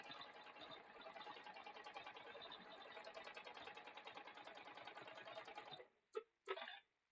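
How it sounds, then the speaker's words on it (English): A sewing machine stitches straight quilting lines through a quilt and its batting in a fast, steady run of needle clatter for about six seconds, then stops, followed by a couple of short mechanical clicks. "I'm just going to sew right off to the batting"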